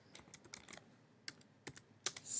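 Typing an SQL query on a computer keyboard, soft scattered clicking keystrokes in irregular bursts, quiet and close with no talk.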